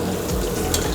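Paneer cubes frying in hot oil in a pan for Indo-Chinese Schezwan paneer, a steady close sizzle with faint clinks of stirring.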